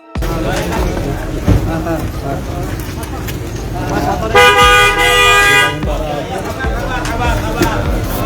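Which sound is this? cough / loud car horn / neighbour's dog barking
loud car horn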